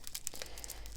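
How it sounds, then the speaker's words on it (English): Material from a Kandinsky diamond painting kit being cut, a brief close crinkly snipping and tearing that lasts about a second, with no one speaking. "Let me cut these both again."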